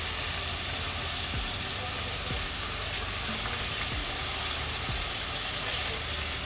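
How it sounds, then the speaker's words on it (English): Chicken searing in a pan of olive oil gives a steady, dense sizzle with broad hiss throughout, and a few faint soft knocks mixed in. "I'm just putting some olive oil. Again, we're not frying the chicken. We're more so searing it,"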